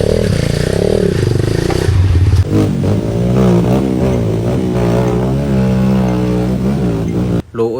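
A small enduro motorcycle, ridden through a rain-flooded stream, runs loudly at close range, its engine note climbing into sustained revving before cutting off abruptly near the end.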